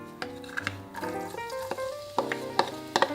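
Five cloves of garlic fry in five spoons of hot olive oil in a pot, a light sizzle under a spoon tapping and scraping the pot in a loose irregular rhythm.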